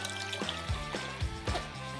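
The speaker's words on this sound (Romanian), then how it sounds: "întâi am adăugat 3 litri jumătate de apă." Water being poured into a 5-litre soup pot, a steady liquid fill with splashing and a few louder gurgling surges, close and moderately loud with no talking.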